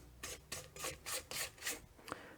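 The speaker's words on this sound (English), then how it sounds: "I'll take just a moment and scrape down the sides of my bowl" A spatula scrapes down the sides of a mixing bowl of snickerdoodle cookie dough in about six short, even, rhythmic rasping strokes, quiet and close.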